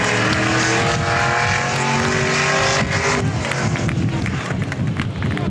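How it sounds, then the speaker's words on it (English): Race cars roar around the South Texas Speedway track in a loud, continuous engine drone while a crowd murmurs, with a commentator's voice faintly audible underneath. "We're still racing on the racetrack, though."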